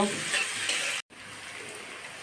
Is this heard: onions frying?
yes